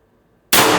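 A single loud, sharp blast from an IntruBuster Gen 2 carbine air rifle with a 12-inch .686 barrel at 1100 psi, bursting in abruptly after near-silence and ringing out close and broadband.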